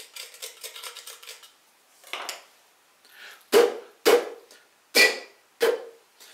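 Back of a spoon scraping and tapping inside the strainer holes of a clay teapot, scattered soft scratchy rubs, then four loud, sharp clinking scrapes in a steady rhythm, close and alone.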